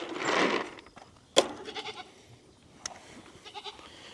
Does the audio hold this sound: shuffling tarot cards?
no